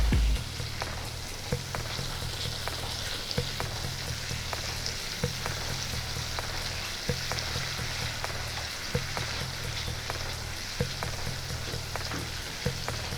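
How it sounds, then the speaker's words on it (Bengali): Whisked sour yogurt goes into a pan of frying onion and ginger for a fish korma, a steady close sizzle and crackle with small spatula clicks scattered throughout. "এখন আমি ফেটিয়ে রাখা টক দইটা দিয়ে দিচ্ছি।"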